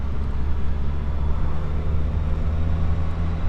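A motorcycle rides through town in St. Helens with a steady, close engine drone and road rumble, heavy low-end noise that stays constant throughout with no talking.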